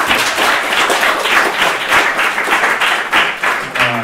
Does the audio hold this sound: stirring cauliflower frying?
no